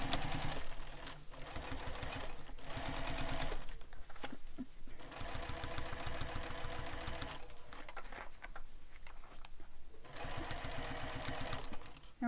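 A sewing machine stitches a bag in a fast, steady mechanical whir of needle strokes, running in long continuous stretches with brief slowdowns, close and fairly quiet.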